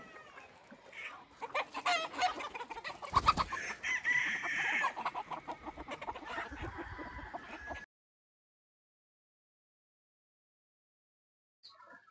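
Desi chickens at a village poultry farm holding about 20,000 birds in Latur district, clucking densely with occasional rooster crowing, loud and continuous for about eight seconds before falling silent.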